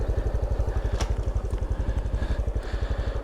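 A Honda Trail 125 Hunter Cub motorcycle engine runs steadily near the listener, a loud, even low thumping pulse with faint clatter on top, holding a constant idle-like rhythm throughout.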